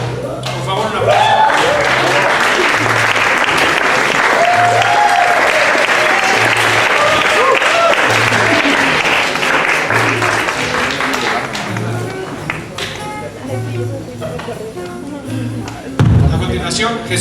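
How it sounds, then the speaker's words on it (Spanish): Audience at a baroque-music awards ceremony applauds in a long, dense burst while a steady rhythmic thumping beats underneath, like a foot stomp or drum; the clapping thins in the final seconds with scattered sharp claps and a knock. "por favor, un aplauso."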